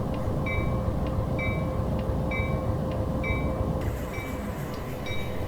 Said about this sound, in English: There's our bell. It's a nice sound.